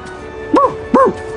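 A cartoon puppy gives two short, high yaps about half a second apart, close and clear over a faint background hum.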